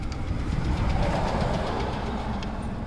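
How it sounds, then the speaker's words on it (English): A car engine idles steadily and close after an oil change, a dense continuous rumble with faint rapid ticking that may be lifter tap. "I heard a lifter tap."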